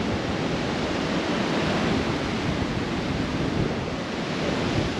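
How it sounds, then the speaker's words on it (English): Strong wind buffets the microphone over the constant wash of choppy surf at Daintree Beach, a loud, unbroken roar with no voices. "it's just super windy at the moment"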